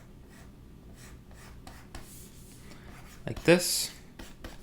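Pencil sketching a Super Mario mushroom on paper: faint light scratching strokes, then a louder rubbing scrawl near the end, with a voice speaking briefly.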